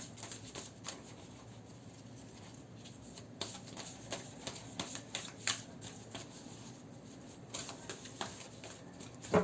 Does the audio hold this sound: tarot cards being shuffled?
yes